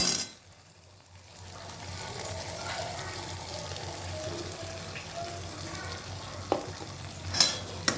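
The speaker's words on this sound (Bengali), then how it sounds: "এবারে শুধু এই কষানোর কাজটাই সব থেকে বড় কাজ মশলাটাকে পুরো কষিয়ে নিতে হবে" Chicken chaap masala fries and is stirred in a pan: a soft, steady sizzle with scraping spatula strokes, quiet at first, then louder with a few sharp clinks near the end.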